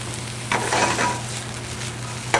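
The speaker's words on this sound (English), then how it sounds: "we'll saute up our vegetables here" Vegetables sautéing in a pan for pot roast, a soft steady sizzle with a few brief stirring scrapes and a sharp clink near the end, close by.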